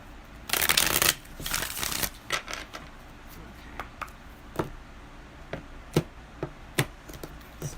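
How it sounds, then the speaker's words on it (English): Tarot cards are riffled and shuffled in two loud bursts near the start, followed by scattered soft taps and flicks as cards are handled and laid down. "one more shuffle"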